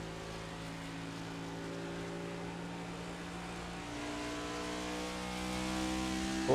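Race car engine in a NASCAR-style racing video game at Darlington, droning steadily as the car coasts to save fuel, its harmonic tones shifting slightly and swelling near the end; continuous and fairly close.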